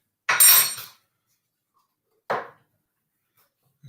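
Baking powder being stirred into a double chocolate muffin mixture: a short scraping clatter of a spoon against a bowl, then a second briefer scrape, close and distinct with silence between.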